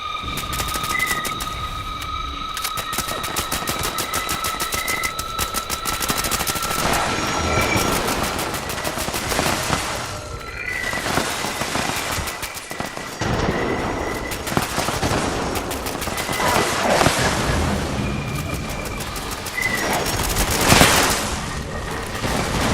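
Rapid weapon fire in Fallout 76, long stretches of dense automatic shots crackling close and loud, with short pauses between bursts over a faint steady game hum.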